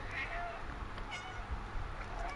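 A cat meows a few short times in the video game Stray, set against a steady low hum and soft background noise.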